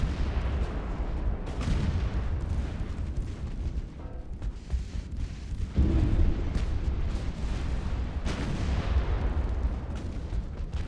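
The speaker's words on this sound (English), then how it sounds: "Got a torpedo hit on this one." Naval combat in Ultimate Admiral: Dreadnoughts, with a torpedo striking a ship amid a dense, continuous roar of booming explosions and gunfire.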